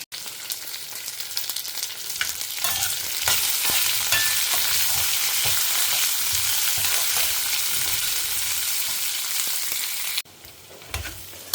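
Salted vegetables sautéing in a pan give a continuous loud sizzle broken by spatula stirs and scrapes. The sizzle falls away abruptly near the end, leaving quieter pan noise.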